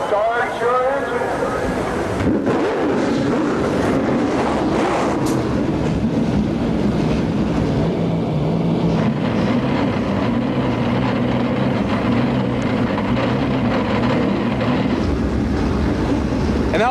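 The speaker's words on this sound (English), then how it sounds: "Start your engine." A field of Trans Am race cars at Portland fires up, a loud layered engine roar building and holding throughout, with an announcer talking over it.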